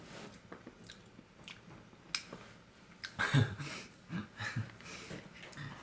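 A young man chews ice cream close to the microphone, with soft wet biting and squishing sounds, a few louder crunchy bites midway and light breathing between them.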